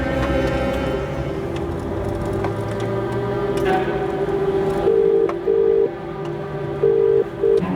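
A telephone number is dialed on a phone in a Crime Patrol TV crime drama, sounding as a run of short, evenly spaced keypad beeps over a continuous low background bed.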